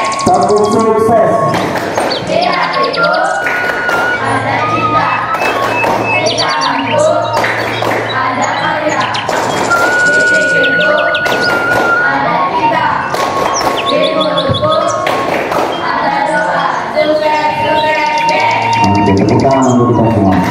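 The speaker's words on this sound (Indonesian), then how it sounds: "Tepuk sukses" Schoolchildren perform a long rhythmic 'tepuk sukses' clapping routine in class, with repeated patterned bursts of hand claps alongside chanting children's voices and birds chirping outside.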